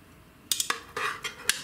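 Utensils clink and scrape against a pressure cooker pot while spaghetti carbonara is served, giving about six sharp metallic knocks and a short scraping rub, close and fairly quiet, with no talk.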